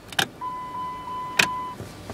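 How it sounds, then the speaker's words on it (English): Parking brake of a 2005 Chrysler Pacifica in a quiet cabin: two sharp mechanical clunks about a second apart, with a steady electronic warning chime sounding between them. "At least the parking brake works still."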